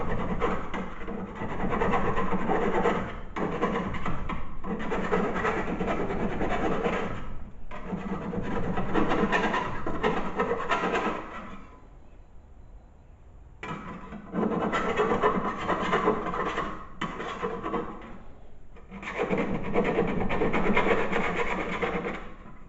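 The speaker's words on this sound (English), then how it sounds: "take that and file." A hand file rasps back and forth across the edges of drilled holes in metal, steady bursts of scraping strokes broken by short pauses, close and fairly loud with no talking.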